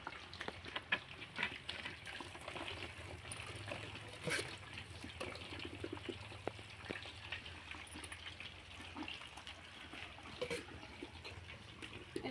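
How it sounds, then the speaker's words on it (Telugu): Boiled chicken pieces deep-frying in hot oil in a pan for chicken pickle, giving a steady, fairly quiet bubbling crackle with scattered pops throughout, no voices. "ఇలా బాగా ఉడకపెట్టి పెట్టుకున్న చికెన్ని మనం ఆయిల్లో వేసి ఫ్రై చేసుకుంటాం. Deep fry."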